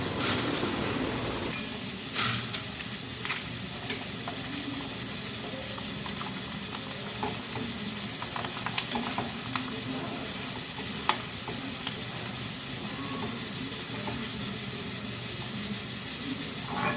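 A pressure cooker of khichdi hisses steadily on a home kitchen stove, a continuous broad steam hiss with faint clicks and clatter scattered through it, and no talking.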